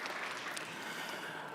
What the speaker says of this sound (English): a big round of applause for you as well